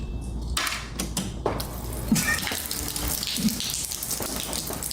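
Water runs steadily from a refrigerator's built-in water and ice dispenser, a continuous close splashing stream with no talk.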